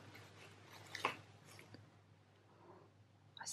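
Faint, close crunching and squishy chewing as a cat named Mouse bites into a prawn cracker, a few irregular bites in a quiet room with a louder crackle near the end.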